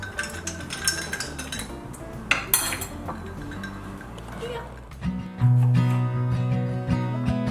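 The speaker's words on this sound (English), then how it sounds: "I'll give it a proper stir." Spoon stirring lemonade in a jug, giving clinks and scrapes against the sides in an uneven rhythm for several seconds, followed by a steadier, louder ringing.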